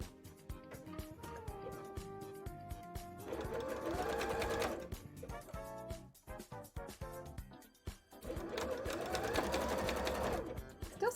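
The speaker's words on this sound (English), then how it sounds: "And then let's sew it on. And again, I'm going to do a zigzag again," Home sewing machine running a zigzag stitch to attach a piece to a handmade bra, in two sustained bursts of rapid, steady stitching separated by a pause with lighter handling clicks.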